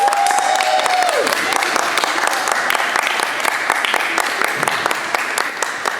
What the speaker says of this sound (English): Round of applause for Alabama Aviation Aerospace High School.